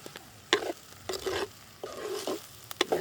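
Frying onions sizzle in a pan as a spoon scrapes through them in several short, uneven stirring strokes, close and moderately quiet.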